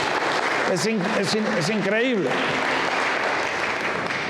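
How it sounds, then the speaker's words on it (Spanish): Church congregation applauding throughout at a steady level, with someone speaking over the clapping partway through. "dele un aplauso, él se lo merece todo"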